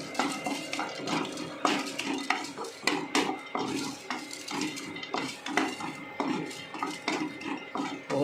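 Dried red chillies and cashews get stirred in a metal kadai, a spoon scraping and clinking against the pan in repeated rhythmic strokes over a light sizzle, close and fairly loud.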